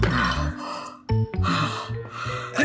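A single sneeze from an old man playing grandpa in a comedic Easter bunny skit: a sharp gasping inhale followed by one abrupt, loud burst midway, with background music playing throughout.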